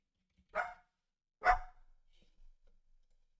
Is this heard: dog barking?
yes